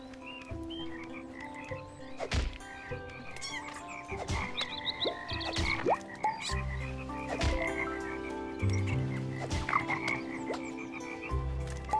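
Frogs in the video game Toki Tori 2 croak repeatedly in overlapping, pitched calls, some low and sustained, others quick chirps, with sharp clicks between them and no speech.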